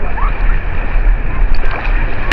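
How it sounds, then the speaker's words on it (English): Big sea waves wash and splash steadily on a Trinidad beach, a loud, continuous roar of surf with broadband hiss and no pause. "When I come out, we got some big waves."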